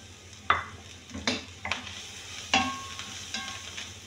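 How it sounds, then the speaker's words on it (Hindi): Onion and garlic being sautéed in a pan for homemade chicken samosa filling: several brief stirring scrapes and light sizzling bursts over a quiet background, close and fairly soft. "प्याज और लहसुन को आपने हल्का सा सोते करना है।"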